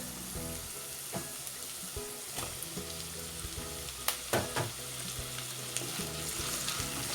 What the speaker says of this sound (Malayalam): ഇനി ഇതിലേക്ക് ക്യാപ്സിക്കം ആഡ് ചെയ്യാം.